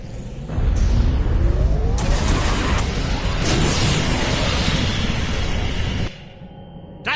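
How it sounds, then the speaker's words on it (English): A big explosion from overloaded conduits in Star Trek Online, a loud sustained roaring blast lasting several seconds with crackling debris, then cutting off abruptly into quieter ambience. "If I overload those conduits, I'm sure it'll make a big explosion."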